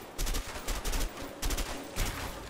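Bursts of gunfire in the video game A Way Out: four separate clusters of rapid shots, loud and close, with short gaps between them and no talking.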